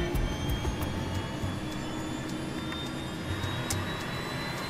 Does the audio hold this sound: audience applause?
no